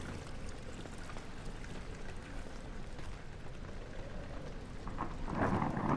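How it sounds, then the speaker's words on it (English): Steady heavy rain and rumbling thunder in the horror game Amnesia: The Dark Descent, a dense continuous wash that swells louder near the end, with no talk. "Don't have quite a lightning storm here, but it's raining outside."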